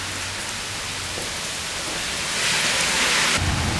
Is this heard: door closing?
no